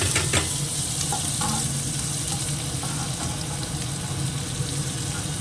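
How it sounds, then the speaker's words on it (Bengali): Sliced onions sizzle in a small amount of hot oil, a steady, close, broadband frying hiss that holds evenly throughout with a few faint clinks at the start. "একদম অল্প একটু স্লাইড তেল রাখা আছে পেঁয়াজটুকু দিয়ে দিই"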